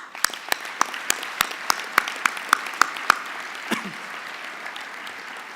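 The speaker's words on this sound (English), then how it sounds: "a round of applause" Sparse applause for military spouses at the 2014 BEYA Stars and Stripes event: a handful of crisp, separate claps in an uneven rhythm, tapering off after about three seconds into a quiet room.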